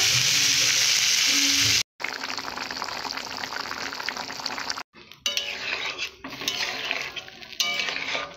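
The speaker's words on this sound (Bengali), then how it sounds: "ভেজে নেব ভালো করে" Potatoes and carrots frying in a pan with turmeric and salt, a steady close sizzle broken by brief silences, with occasional scraping and stirring clatter of a utensil against the pan.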